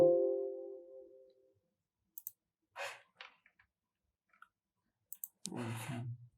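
A few sparse, sharp clicks spaced apart in a quiet room, following a fading tone and ending with a brief breathy rustle.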